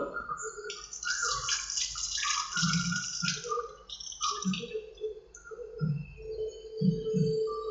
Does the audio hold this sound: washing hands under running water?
yes